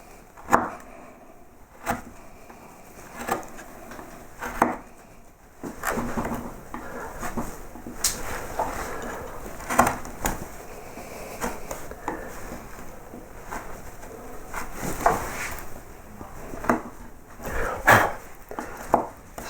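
A hand carving tool slicing cuts into wood to form straight lettering grooves, a series of short, sharp scraping and tapping strokes at close range, irregularly spaced with quiet pauses between them, no talking.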